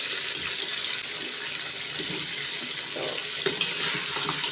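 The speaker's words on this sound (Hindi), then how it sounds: "इसे 2 मिनट तक हम घी में फ्राई करेंगे चिकन को अच्छी तरह से।" Chicken fries in hot ghee in a karahi over a high flame, giving a steady hiss with a few faint clicks, close and without talk.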